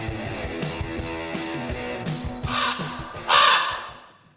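A raven or crow caws as a spooky sound effect, with several harsh, rasping calls over a low musical background. The last call is the loudest and stands alone near the end.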